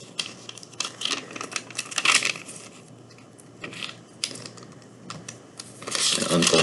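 Sheets of origami paper being folded in half for a paper frog, giving close, irregular crinkling and crisp creasing taps in short bursts with pauses between, heard alone without talk.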